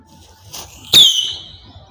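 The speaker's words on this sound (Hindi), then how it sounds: "आपने देखा कितना शानदार तरीके से मिसाइल लॉन्च हुआ।" A firework missile launches from a homemade toy tank with a sudden close whoosh and a high, hissing whistle that fades over about a second, after a faint fizzing fuse.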